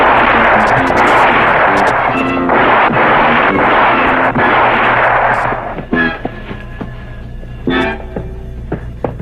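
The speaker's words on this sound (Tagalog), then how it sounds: "Nanay Ska, anong putukan yun? Nilusob tayo mga tulisan" Gunfire erupts in a 1984 Filipino drama as bandits attack: a loud, dense barrage of shots and blasts fills the first six seconds, then thins into scattered sharp reports with a few voices underneath.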